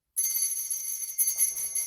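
A telephone rings in a studio during a call-in show, its bright electronic trill starting abruptly and sounding steadily in repeated pulses, clear and alone with no talk.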